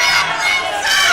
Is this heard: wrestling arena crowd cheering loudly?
yes